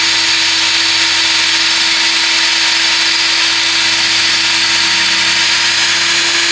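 A cordless drill bores coolant holes into a D-series engine block during a turbo build, its motor whining loud and constant at close range with no break or talking.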